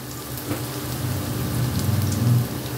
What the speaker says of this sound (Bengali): এখন রসুনটাকেও আমি 1-2 সেকেন্ডের জন্য একটু ভেজে নেব